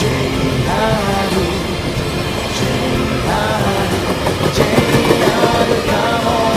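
A JR freight train passes steadily nearby, a continuous rumble of rolling wheels and wagons with faint squeals and clicks, loud throughout the clip.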